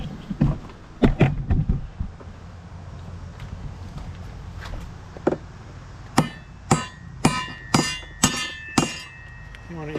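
Hammer strikes on deck anchoring hardware fastening a deck to a house wall or concrete pier: a few scattered knocks at first, then a steady run of sharp, ringing metallic blows close by.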